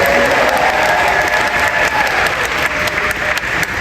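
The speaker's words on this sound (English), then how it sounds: "give a round of applause for Rouge." Applause from the audience for a cosplayer named Rouge at a Sonic Expo 2024 cosplay competition: brisk, continuous clapping from many hands, loud and steady throughout.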